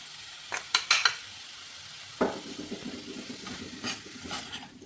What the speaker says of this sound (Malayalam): എന്നിട്ട് നല്ലവണ്ണം ഈ മസാലയിൽ വഴറ്റി എടുക്കുക, ഇളക്കിയെടുക്കുക.